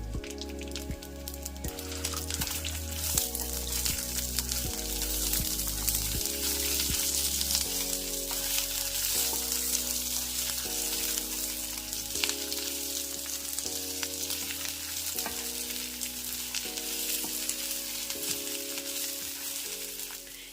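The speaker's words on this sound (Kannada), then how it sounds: "ಎಣ್ಣೆ ಹಾಕಿ ಇದನ್ನೆಲ್ಲ ಹುರ್ಕೋತಾ ಇದ್ದೀನಿ." Ingredients for a mutton masala curry fry in oil, giving a loud, steady sizzle that runs unbroken for about twenty seconds with a constant crackling wash.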